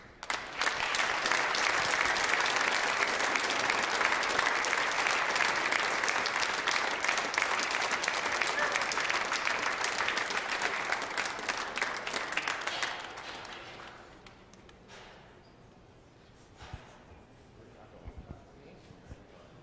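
Audience applause at the finals of a squash tournament, a long, even roar of clapping from the crowd that fades out after about thirteen seconds, leaving quiet room noise with a few faint sounds.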